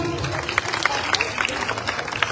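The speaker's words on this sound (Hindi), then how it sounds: "इसके लिए हम माता श्री के लिए तालियां तो बजा ही सकते हैं" An audience at a political speech during a Mahakal yatra claps in a dense, steady patter of many hands, with a few sharper claps standing out near the front.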